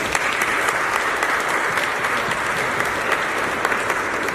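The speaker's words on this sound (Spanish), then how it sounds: "creo que es muy importante que le demos un aplauso a ellas" Audience applause at a youth forum in Aldaia, a dense, even clapping from many hands held steadily at close range throughout, with no talk over it.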